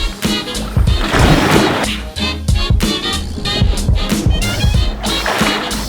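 A person wearing a PFD climbs back into a Hobie Pro Angler 14 kayak from open water. Close splashes and sloshing come in uneven bursts with hollow thumps against the hull.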